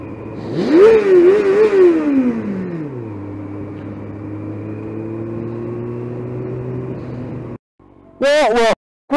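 A motorcycle engine revs hard and climbs in pitch while overtaking a bus, then settles into a steady drone before cutting out, and brief bursts of sound follow at the end.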